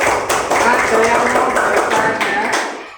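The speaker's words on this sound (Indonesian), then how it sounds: "Beri aplaus kepada kelompok Edelweiss." Classroom applause for a student group after a presentation: many hands clapping together in a steady, close burst that fades at the end.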